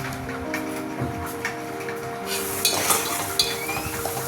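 Cabbage fries in a pan with ginger and garlic, giving a steady close sizzle. Occasional stirring scrapes and ticks sit on top, and the sizzle grows brighter and louder toward the end.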